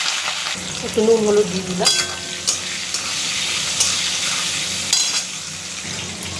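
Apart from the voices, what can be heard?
potatoes and pointed gourd frying in hot oil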